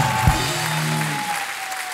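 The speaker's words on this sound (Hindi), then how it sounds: "बहुत जोरदार तालियां हो जाए हमारे मेहमानों के लिए।" A television comedy show's studio audience bursts into applause for celebrity guests, a brisk wash of clapping with a low thump at the start and a faint musical tone running underneath.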